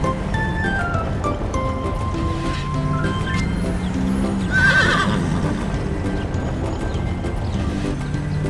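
A cartoon horse neighs in a high whinny over a busy music and effects background, with a rhythmic clip-clop of hooves running throughout, moderately loud.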